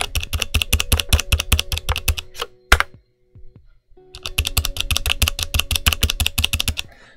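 Fast, loud clacking on a Royal Kludge RK920 full-size mechanical keyboard with unlubed RK switches, then a single flicked key and a short metallic ping that rings out alone before the rapid typing resumes.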